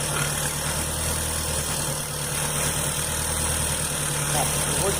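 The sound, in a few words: strange noise from a 2003 Astra car engine, idling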